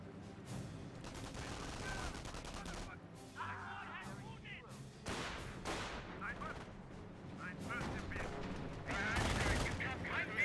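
Battle in the Company of Heroes strategy game with rifle and machine-gun fire, explosions and crashes layered densely at low level, a mix of distant rattles and sharper bursts.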